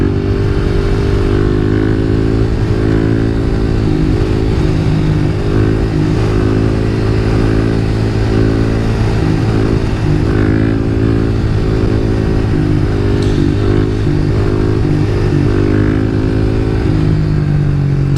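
A Kawasaki KLX300 motorcycle engine hums steadily and loudly while being ridden toward a quarry, the close, continuous drone shifting pitch slightly as the rider works the throttle, with no one talking.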